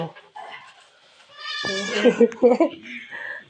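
A young goat bleats a few times in short wavering calls at a farmyard gate, heard close while people talk nearby.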